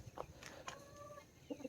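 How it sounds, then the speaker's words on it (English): Silkie chickens cluck on a farm among other breeds, several short throaty clucks and a drawn-out call, moderately near and fairly faint, with no voices. "That's a silky chicken. Very interesting breed of chicken."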